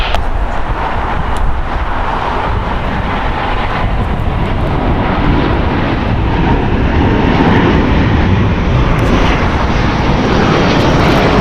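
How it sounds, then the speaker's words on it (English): A Delta Airbus A330-900 jet airliner, brand new in 2022, thunders continuously at close range on an LAX runway, a loud, broad, unbroken engine roar lasting throughout. "That right there is Delta Airlines Flight 7 going to Tokyo Haneda. It's an Airbus A330-900, brand new as of July 2022."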